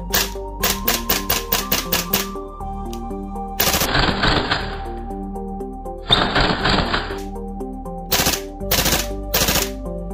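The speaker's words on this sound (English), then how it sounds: "I thought I would do a little dry firing so that way you guys can just see the bolt reciprocate back and forth." A Tokyo Marui MTR-16 gas blowback airsoft rifle dry firing, its bolt snapping back and forth in a fast string of sharp metallic clacks, then pauses and a few more single loud cycles, close and alone.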